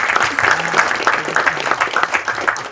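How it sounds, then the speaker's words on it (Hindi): An audience at a film trailer launch event applauds the cast and crew, with loud, close, dense clapping from many hands continuing steadily throughout. "जोरदार तालियां हो जाए"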